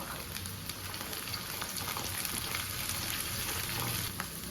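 Onions sizzle and fry steadily in a pan with oil, a continuous crackling hiss with small pops, fairly close and even in level, with no talk.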